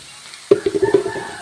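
Spicy chili powder and spices hitting hot oil for kappa biriyani, a sudden sizzle burst followed by a short crackling, pulsing fry that fades quickly, close and moderately quiet.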